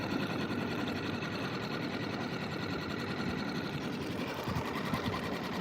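A 2025 Suzuki 6HP outboard motor idling on its first startup, a steady, fast mechanical chatter that runs continuously and evenly at close range with no voices over it.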